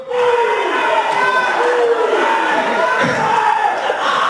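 A large crowd at a Tamil film audio launch event cheers and shouts loudly and continuously, a dense roar of many voices with scattered whoops rising over it.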